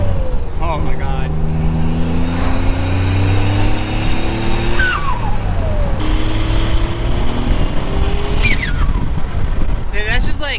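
A 3000GT / Dodge Stealth engine revs at about quarter throttle, with rising and falling harmonic tones from a loud, close engine and brief whistly spool sounds between pulls.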